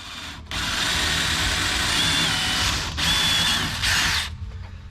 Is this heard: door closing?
no